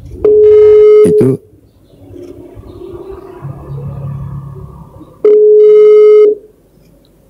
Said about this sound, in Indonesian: Angkat telepon dulu